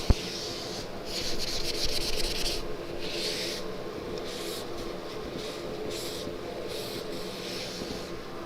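Hand sanding a hard lacquer finish with 120 grit sandpaper, a series of rasping back-and-forth strokes, close and moderately loud, some longer and some short, with pauses between them.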